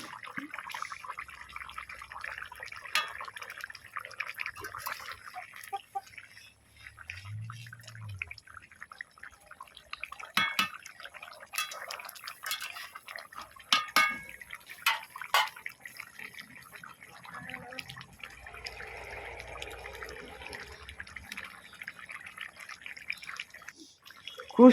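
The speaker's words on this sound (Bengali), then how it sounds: "ধনিয়া পাতা দিয়ে কিছুক্ষণ বেশ ফুটিয়ে নিলাম।" A pan of Sundarbans golden fish curry with coriander leaves simmers at a boil, giving soft, faint bubbling and irregular dripping pops over a long, quiet stretch.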